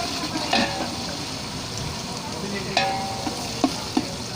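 Pulao ingredients, with mint and coriander added for a large four-kilogram rice batch, fry and sizzle steadily in a pot, with a few sharp metal clinks of stirring.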